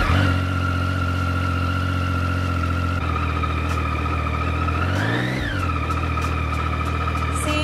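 Motorcycle engine idling steadily, then a single short throttle blip rising and falling around the middle, heard close and alone with no talk.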